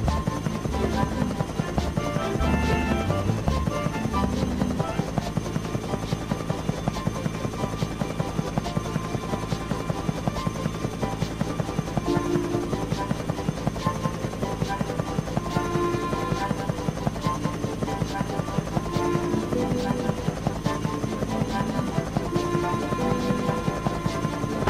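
A biplane flies nearby in a Thomas and Friends railway video game, heard as a continuous droning engine hum with a steady pulsing buzz that stays loud throughout, alongside game music.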